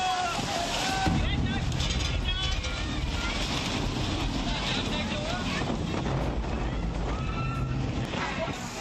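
Strong wind and heavy rain lash an outdoor wedding in Pandva village, Gir Somnath, with loud continuous roaring gusts and buffeting against the microphone throughout.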